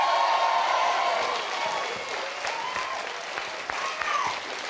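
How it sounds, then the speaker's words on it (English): Studio audience applauding Eamonn Holmes on a BBC National Lottery game show, a full sustained round of clapping from a sizeable crowd that slowly thins, with a voice speaking over it. "Everybody give him a round of applause."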